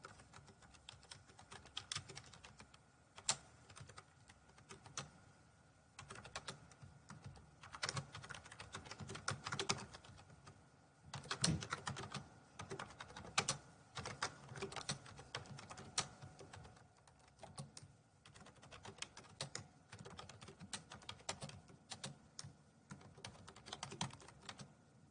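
Soft, steady typing on a computer keyboard, irregular key clicks in quick runs with brief pauses, quiet and close.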